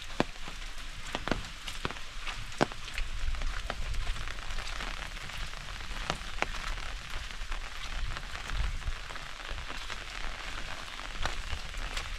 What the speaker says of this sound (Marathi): पाऊस थोडा कमी झाला आहे